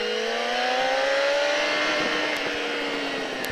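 A motorcycle engine revving hard at full throttle on a track, its pitch climbing steadily as it accelerates, loud and sustained with no talk.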